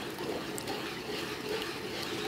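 Cornstarch dissolved in water poured into a pan of sugar for halwa, a continuous soft liquid splash and hiss, steady and close, with no talk.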